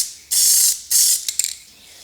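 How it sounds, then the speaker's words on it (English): A spray paint can being shaken to loosen its mixing ball before priming a car bumper gives two long, loud high rattling bursts followed by a few shorter, quieter clicks. "make sure that you shake the can for a full 2 to 3 minutes. When the ball is moving freely in the can"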